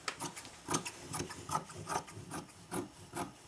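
Fabric being cut for a play backpack, a rapid rhythmic series of rasping scissor strokes, about ten evenly spaced cuts, close and fairly clear with no talking.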